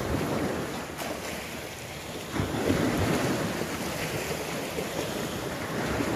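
Ocean waves wash steadily onto a shore near a seaside spot with tables and chairs, forming a continuous rushing surge with a swell midway, mixed with wind buffeting the microphone.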